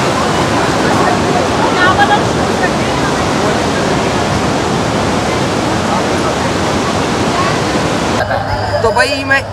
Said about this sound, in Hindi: तो देखो भाई कितना तेज पानी का भाव है